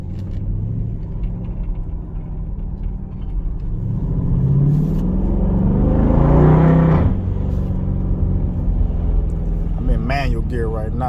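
A Dodge Durango SRT 392 in manual gear rumbles through downshifts, engine swelling to a loud rev before dropping back, with crackling exhaust pops near the end.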